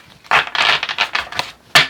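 Tarot cards being shuffled by hand in a quiet room, a series of close, crisp riffling bursts with short pauses between them and a final sharp snap.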